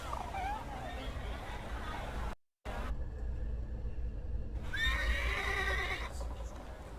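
A horse whinnies in the game The Thaumaturge, with rising harmonic calls near the start and a louder, longer neigh later over steady low rumble and a brief dropout.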